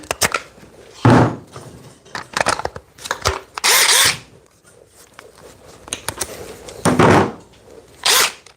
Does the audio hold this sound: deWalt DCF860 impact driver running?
yes